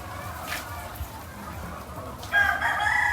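Chickens cluck nearby and a rooster crows loudly near the end, over a low outdoor murmur.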